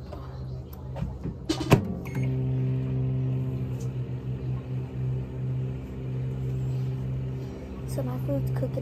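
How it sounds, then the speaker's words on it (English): A microwave oven runs with a steady low electrical hum, with a few clicks and clatters near the start, close by. "So my food's cooking in the microwave"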